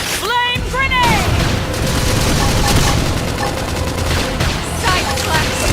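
Flame grenade attack in Xenoblade Chronicles X: Definitive Edition, a dense crackling burst of combat impacts and rumbling booms that continues steadily through the clip, with a few chirpy effect tones early and brief voice shouts over it.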